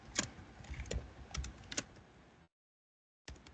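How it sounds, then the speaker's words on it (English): Typing on a computer keyboard during a programming practical, heard as scattered clicks and taps up close, then a short silence before the keystrokes resume. "God help me with this typing of this."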